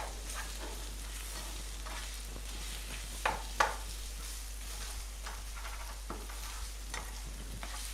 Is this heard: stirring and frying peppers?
yes